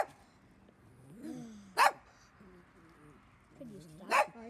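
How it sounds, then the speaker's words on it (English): A dog gives two sharp barks a couple of seconds apart, with whiny, whimpering vocal sounds between them, fairly quiet overall. "Could you stop barking?"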